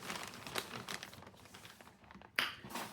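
Plastic packaging crinkling and tearing as a package holding a rain hair scarf is cut open, with short rustles and a sharp rip near the end, close and fairly quiet.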